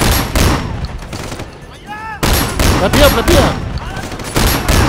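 Rapid gunfire from a weapon in the video game Sleeping Dogs, with bursts of loud close shots that stop briefly and then start again, mixed with game sounds and a voice speaking.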